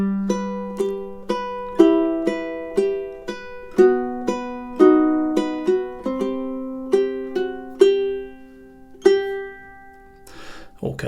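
Ukulele plays measures 5 and 6 of a song in an arrangement, with evenly spaced plucked notes, close and unaccompanied, ending in a brief soft rustle.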